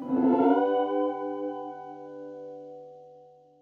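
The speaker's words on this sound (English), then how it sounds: "reverb, in particularly reverse reverb" Shoegaze guitar drenched in reverse reverb and effects, a single swelling chord whose shimmering harmonics ring out and slowly fade over a few seconds, with no voices.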